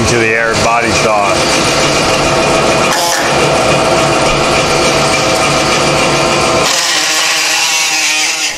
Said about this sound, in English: So we'll try switching to the air body saw.